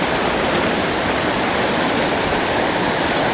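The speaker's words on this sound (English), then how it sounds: "I am standing in the middle of a small creek right now, which leads up to the falls." A small creek rushes toward Proxy Falls in Oregon, heard from midstream as a loud, dense, unbroken wash of flowing water with no pauses or voices.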